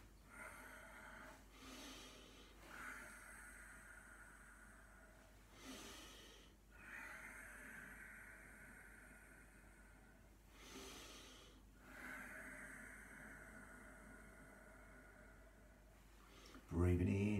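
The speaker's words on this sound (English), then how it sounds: "Breathing in and exhaling here for as long as you like." Slow, deep breaths during a chi kung exercise, with long inhales and exhales in a steady cycle of about four seconds, close and soft, ending in a sudden louder bump.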